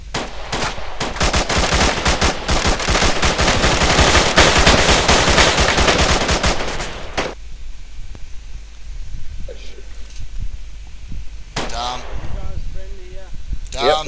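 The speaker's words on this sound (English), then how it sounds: "They are firing on you now" Sustained automatic gunfire in the Arma 3 military game, a dense rapid burst of rounds for about seven seconds, loud and close, then a quieter stretch with a few distant sounds and voices on the radio.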